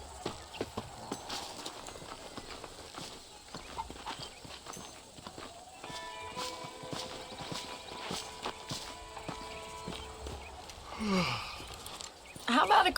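Horse hooves clip-clop at a walking pace in Red Dead Redemption, rhythmic and moderately close, with faint ambient sounds and a brief voice near the end.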